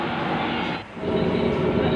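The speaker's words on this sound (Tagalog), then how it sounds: "ito na po guys yung loob ng MRT station po" Inside a busy MRT metro station in Manila, a steady loud rumble of a train and rail noise fills the space, briefly dipping before swelling again, with faint crowd sounds beneath.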